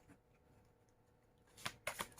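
Tarot cards being shuffled, a few quick papery riffles and snaps arriving in a burst near the end after a quiet, near-silent stretch, close and fairly soft.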